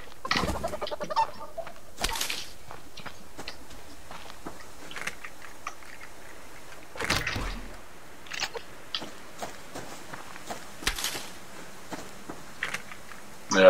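A chicken clucking in bursts, with sharp squawks and scattered pecking and rustling noises, fairly close and at moderate loudness, with a few quiet gaps between calls.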